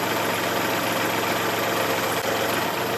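Kubota tractor engine idling steadily, a dense continuous low rumble with even mechanical chatter throughout, loud and close with no speech.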